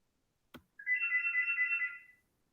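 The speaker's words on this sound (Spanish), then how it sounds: "Está sonando el teléfono" A single telephone ring, a steady electronic warble lasting over a second after a brief click, heard alone in a quiet room during an online teaching session.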